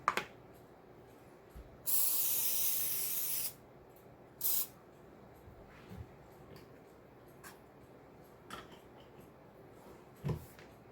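Cooking spray hisses from an aerosol can into a muffin tin for breakfast egg muffins, with one long steady burst of about a second and a half and then a shorter puff, close and alone, among faint clicks and taps.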